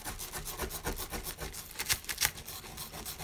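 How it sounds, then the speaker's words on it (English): A scooper scraping a gold dig toy block, a rapid rough rubbing rasp in short repeated strokes, close and fairly quiet, with a couple of sharper scratches near the end. "I'm gonna use a scooper now. Gotta scrape it."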